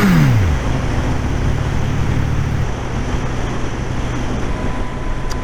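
A Suzuki GSX-S1000 GT motorcycle engine revs and drops pitch as it shifts gears with an auto blipper, a loud close engine note with wind rush and a steady drone afterward.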